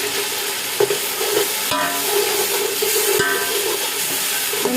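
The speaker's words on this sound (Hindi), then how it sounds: "इनको अच्छे तरीके से भून लेते हैं।" Chopped green chilies, garlic and ginger frying with spices in a pan for chana pulao, giving a steady loud sizzle with spoon scrapes and stirring knocks close up.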